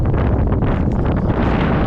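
Strong wind blasts across the microphone during cold-weather shore fishing at Bahía San Blas, a steady, loud rushing roar with no pauses and no voices.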